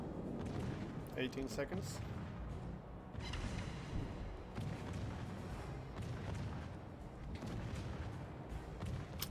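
Naval guns on a warship in World of Warships boom repeatedly, heavy deep blasts spaced across a rumbling battle backdrop, with someone talking briefly over the firing.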